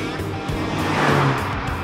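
A sports car engine roars loudly and continuously on a winding road near Le Mans, a steady throaty drone close by with a rough, crackling exhaust edge.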